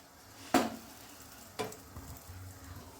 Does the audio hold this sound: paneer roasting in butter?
yes